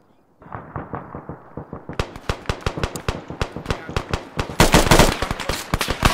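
Rapid rhythmic gunfire in a shooting video game, a steady stream of sharp loud shots that grows louder and denser partway through, with an intense burst near the end.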